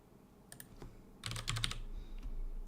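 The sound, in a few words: typing on a computer keyboard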